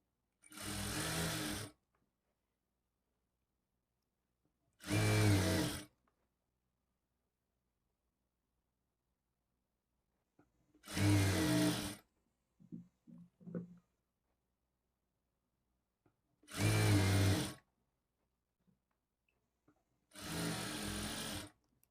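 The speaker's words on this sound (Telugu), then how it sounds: "మీరు ఇలా స్టిచ్ చేసుకునేటప్పుడు క్లాత్ని కొంచెం ఇలా లాగినట్లుగా పట్టుకుంటూ స్టిచ్ చేసుకోండి" A sewing machine stitches thread piping onto a blouse neck in five separate bursts, each a steady whirring run of about a second or two, with quiet pauses and a few soft handling clicks between them.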